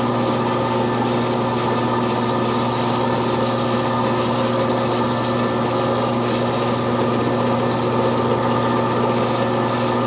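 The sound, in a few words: sandpaper sanding wooden snowman on a turning lathe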